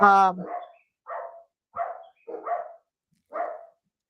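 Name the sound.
dogs barking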